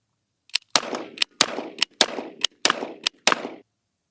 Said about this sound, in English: where would we be with a cowboy gun if we didn't do a little fan action shooting?